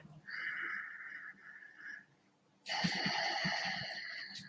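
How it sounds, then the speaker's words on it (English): Ujjayi breathing, a slow, hissing breath drawn through a constricted throat like fogging a mirror, heard as a soft rasping inhale, a pause, then a louder, rougher breath, close and quiet. "Make that sound like you're fogging up a mirror by contracting the back of the throat"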